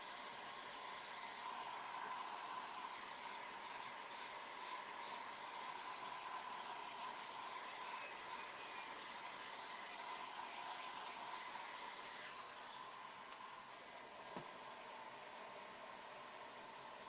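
A dryer blows air steadily and fairly quietly at close range over a craft project, a constant even hiss that carries on for the whole stretch with no talking.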